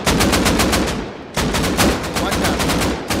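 Automatic gunfire from a Rust console game rattles loud and close in rapid, evenly spaced bursts. It breaks off briefly, then resumes with the same quick repeated shots.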